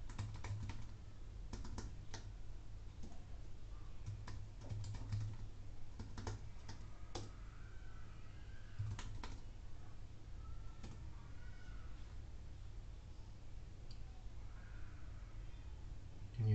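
A password being typed on a computer keyboard: faint, irregular key clicks scattered over a steady background hum, close but quiet, without any voices.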